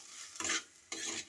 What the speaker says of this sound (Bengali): এইভাবে আলুটা অনবরত এটাকে এইভাবে নাড়তে হবে, নইলে কড়ার মধ্যে লেগে যাবে